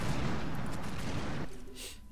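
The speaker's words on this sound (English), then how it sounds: "Just gonna spam grenades over there." Grenades explode in the online shooter Loadout, a dense rumbling barrage of blasts that fades into a quieter tail.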